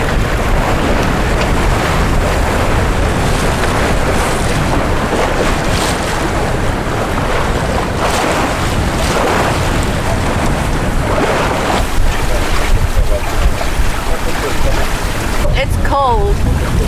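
Steady wind roars across the microphone aboard a Catalina Capri 26 sailboat on an early-season shakedown sail, with water washing along the hull beneath it, loud and continuous throughout.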